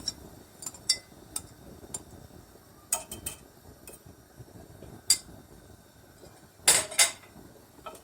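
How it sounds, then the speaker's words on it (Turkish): A spoon clinks and scrapes against a pot while flour soup with tomato paste and grated garlic is stirred, giving scattered light metallic taps at an irregular rhythm, close by, with no talk. "Ve karıştırmaya devam ediyorum."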